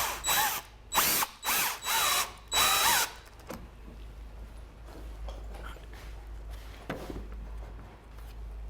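A power drill driving screws into pallet wood while building a smokehouse, four quick loud whirring bursts in the first three seconds, then quieter handling clatter and faint mechanical noise.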